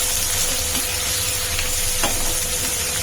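Onions sizzle steadily in a hot pan for a mushroom curry, a continuous close frying hiss with a brief stirring scrape partway through, no voices.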